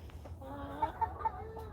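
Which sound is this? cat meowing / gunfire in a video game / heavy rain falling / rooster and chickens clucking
rooster and chickens clucking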